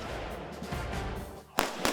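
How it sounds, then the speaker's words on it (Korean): Two sharp rifle reports crack at an army firing range during recruit marksmanship training, loud and close after a steady background rumble. "생각보다 큰 총소리와 반동에도 당황하지 않고 집중."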